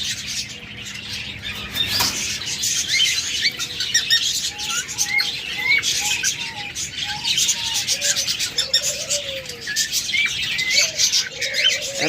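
Red-eyed pet birds at a bird seller's shop chirp and tweet in a busy chorus of short, repeated calls against a steady background hiss, fairly loud and without talk.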